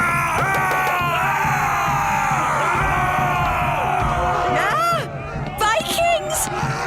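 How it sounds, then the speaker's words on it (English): Cartoon Vikings run about yelling and whooping in a loud, continuous crowd of shouts and bellows, with a few higher cries near the end. "Vikings! Running around and shouting."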